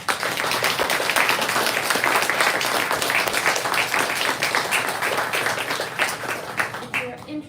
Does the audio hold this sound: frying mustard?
no